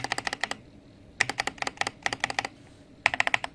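Fast bursts of crisp clacks from a modded Machenike K600 Lite mechanical keyboard, typed in three quick flurries with short pauses between, close and alone.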